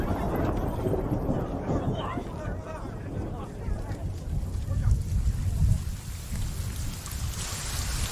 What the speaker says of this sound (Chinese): 这外面怎么突然就下雨了？